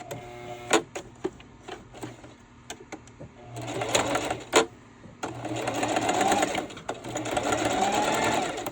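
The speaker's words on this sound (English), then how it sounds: "I'm going to have to sew forward" A sewing machine stitches through thick layers of fabric while making a DIY bunny bag, with short bursts of stitching followed by a longer steady whirring run, close and fairly loud.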